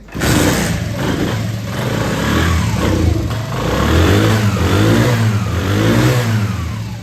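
A used motorcycle in Bangladesh, engine running loud and close throughout, with a steady rough idle rising into repeated revving surges and no voices.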